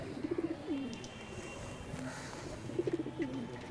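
Pigeons coo on a rooftop in two short, rhythmic bursts of low, throaty calls, fairly close, over a steady background hiss.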